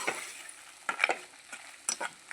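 Red chutney ingredients roasting in a pan are stirred with a spatula, giving short clusters of scraping and clattering strokes over a faint, low sizzle, close and fairly quiet.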